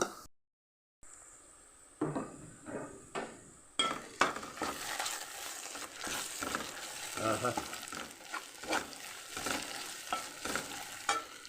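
Crab curry fries with ginger-garlic paste, chilli, salt and turmeric, a close sizzle under repeated spoon strokes and metallic scrapes against the pan, with short clinks starting after a brief silence.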